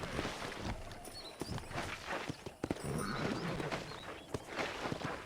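Horse hooves clip-clop at a steady walking pace in the Western video game Red Dead Redemption, close and continuous over outdoor ambience with faint bird chirps.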